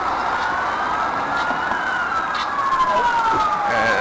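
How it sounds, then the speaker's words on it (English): Ambulance siren wailing steadily as it passes at night in Oxford, Michigan, loud and close with a falling pitch sweep, over a low hum of road traffic. "It's an ambulance, so we're gonna sit here."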